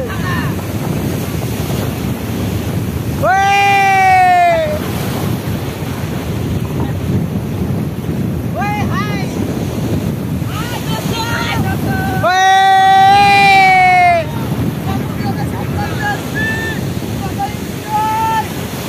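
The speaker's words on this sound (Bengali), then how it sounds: "ঢেউ চলে এসছে আমার কাছে" Constant roar of sea waves washing onto the shore with heavy wind rumble on the microphone, and loud voices talking at intervals.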